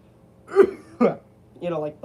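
A couple of rough, throaty coughs sound close by, followed by a short voiced noise.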